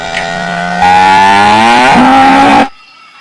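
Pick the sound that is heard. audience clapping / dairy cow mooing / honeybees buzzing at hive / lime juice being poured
dairy cow mooing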